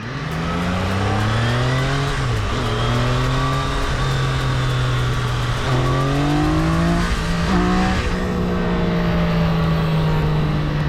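A Triumph Daytona 660 sport motorcycle engine revs high and roars loudly and continuously, its pitch climbing and dipping as the throttle is worked, with several sharp shifts along the way.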